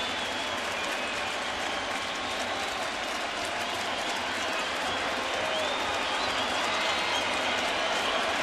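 A crowd of about 37,000 fills Yankee Stadium with a continuous broad roar at a 2013 Yankees game against Tampa Bay, swelling slightly louder toward the end.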